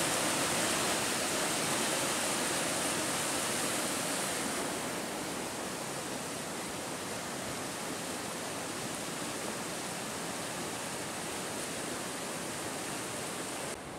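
A mountain stream runs steadily beside a hammock during a storm, giving a loud, unbroken broadband rush of flowing water that stays constant throughout with no voices.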